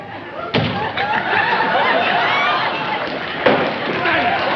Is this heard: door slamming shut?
yes